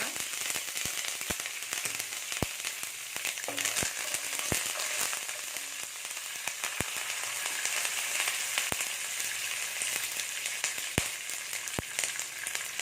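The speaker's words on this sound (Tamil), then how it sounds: "கடுகு உளுத்தம்பருப்பு பொறிஞ்சிடுச்சு கருவேப்பிலை போட்டு" Mustard seeds and urad dal spluttering in hot oil with curry leaves frying, a steady sizzle punctuated by sharp, irregular pops and crackles close up, with no talk.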